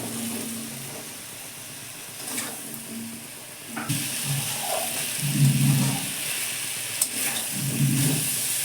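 Potato, carrot and eggplant pieces dropped into hot oil in a pan for a fish and bottle gourd curry, a soft sizzle that swells with bursts of frying and stirring scrapes.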